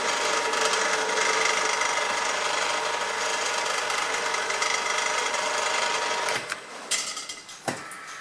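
A tapping chuck drives a tap down into a hole, whirring steadily and loudly, then its safety clutch slips and clatters in a few sharp bursts near the end as the tap binds.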